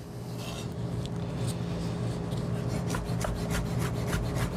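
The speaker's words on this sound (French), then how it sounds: "J'ai la belle origan ici que je vais y rajouter avec un petit peu de basilic. Et voilà. On va hacher ça finement." A knife finely chops fresh oregano and basil on a wooden board in a home kitchen, rapid rubbing and tapping strokes that quicken into a dense run of cuts, close and alone.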